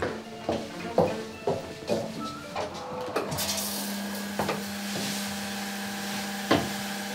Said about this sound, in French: le toilette nous détecte en fait et automatiquement le couvercle se lève